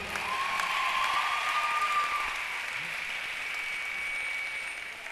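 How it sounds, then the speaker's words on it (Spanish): A crowd at a live Cuban orchestra show applauds steadily, dense clapping at a constant level, with a faint whistle-like tone early and no clear speech. "Aplauso a la mujer cubana."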